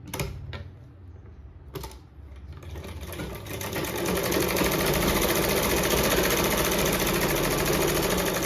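An electric sewing machine stitches an edge seam along a fabric sleeve piece, starting with a few short bursts, then settling into a loud, continuous rapid whir that runs to the end.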